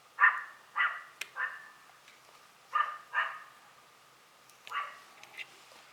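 A dog barks in short, separate yaps, about seven in all, spaced irregularly. The barks sound somewhat distant and moderately loud against a quiet background.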